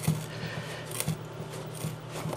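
Medical EDC scissors cut through a boot, giving a few faint, spaced crunching snips over a steady low hum, with no talking.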